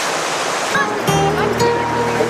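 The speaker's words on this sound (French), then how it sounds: "des grandes cascades comme ça, entourées de tant de verdure, c'est vraiment super" A large waterfall in the Fouta Djallon highlands roars steadily in dense green surroundings, a broad rushing wash of falling water with some brief tonal sounds rising over it midway.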